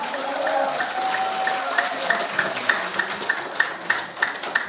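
An audience applauds after a lecture by a lawyer. A broad wash of clapping settles into steadier rhythmic claps toward the end, with a faint tonal hum beneath.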